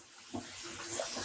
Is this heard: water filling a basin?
yes